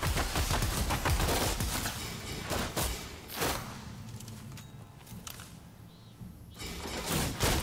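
Dense, rapid gunfire from the guns of Rise of the Ronin rattles in overlapping volleys for the first three seconds. Sparser shots and bursts follow, then another loud flurry closes the stretch.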